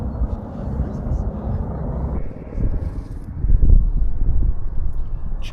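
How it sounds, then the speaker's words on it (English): Helicopters fly overhead at a busy landing area, a steady loud rotor and engine roar that swells and shifts, with wind buffeting the microphone and voices mixed in underneath. "Choppers everywhere."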